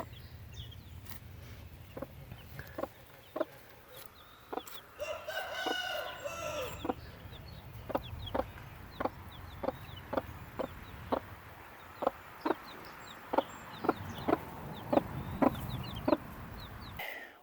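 Silkie chickens at a coop give soft clucks and a short crowing burst, while repeated sharp taps knock at a steady rhythm close by against faint background hum.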